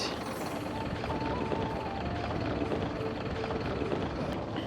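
A small plane idles on an island airstrip at Fair Isle, its engine drone steady, broad and rumbling throughout at moderate distance, with no talking.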